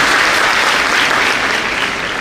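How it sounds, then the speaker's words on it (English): A large audience at a formal event breaks into dense, sustained applause, many hands clapping loudly and evenly throughout. "I think first of all we should have a clap to encourage them"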